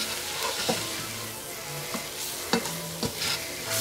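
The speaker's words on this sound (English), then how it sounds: "I'm going to stir this in" Flour and Hungarian paprika are stirred into a hot pan. A steady bright sizzle runs under repeated spoon scrapes and taps against the pan, close-up and without speech.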